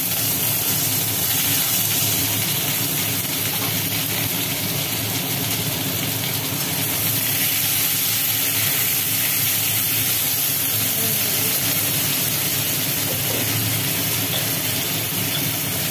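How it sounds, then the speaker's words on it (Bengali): Black cumin seeds, chopped onion and potato sizzle in hot oil, a steady close hiss and crackle running unbroken without talk. "তেলের মধ্যে পড়লো কালো জিরে, পড়লো কেটে রাখা পেঁয়াজ, আর তার সাথে কেটে রাখা আলু।"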